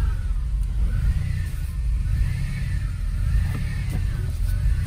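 A 1981 DeLorean DMC-12 under restoration idles in gear, giving a steady, close low rumble that holds at an even level throughout with no voices.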